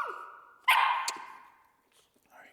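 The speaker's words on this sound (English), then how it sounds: "I'm gonna have her bark at me one time in the rewarder" A puppy gives one sharp, high bark, close by, after a faint whine, and the bark fades into a brief ringing tail followed by quiet.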